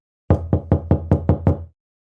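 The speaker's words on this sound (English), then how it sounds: "They knock again." Seven firm knocks on a cottage door, evenly spaced in a quick steady rhythm, loud and close, with silence before and after.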